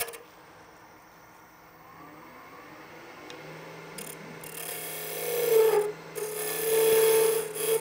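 Scraper shaping a wooden chuck spigot on a spinning lathe, a soft steady rasp that grows louder and harsher as the cut bites, with a faint motor hum underneath.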